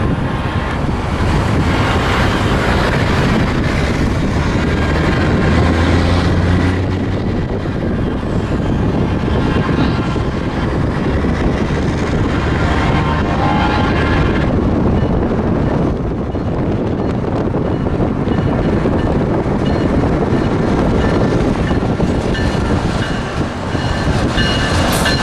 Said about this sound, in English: SunRail train P322 was heading north just as we were arriving